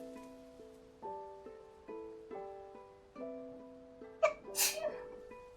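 A person sneezes in a short double burst near the end, loud and close, over soft steady background music.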